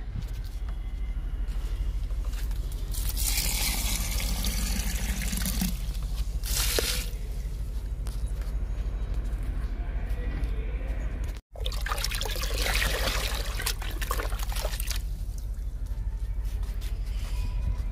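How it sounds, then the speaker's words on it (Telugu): Liquid fertilizer made from soaked papaya peels is poured onto potted plants such as a Barbados cherry, producing bursts of close splashing and trickling with short pauses between pours and one abrupt brief gap. "బార్బడోస్ చెర్రీ మొక్కకు కూడా ఇచ్చేద్దాము లిక్విడ్"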